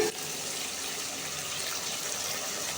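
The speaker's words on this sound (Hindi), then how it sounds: "अब हम इसमें पानी ऐड करेंगे।" Steady broadband rush of water pouring into a pot of fried masala for Pakistani aloo gosht, continuous and fairly close, with no talking.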